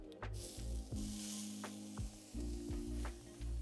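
Tuna laid on a ripping hot tawa sizzles close and loud in repeated surges, with hissing bursts rising and falling over a few seconds alongside a low tonal hum.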